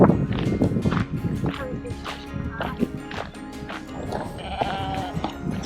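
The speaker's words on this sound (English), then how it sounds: "We're a little bit distracted with the sheep. They're showing off this morning." Sheep graze near the ruins of a 13th-century priory at Tyndrum on the West Highland Way in Scotland, bleating repeatedly and overlapping at close range, with faint voices underneath.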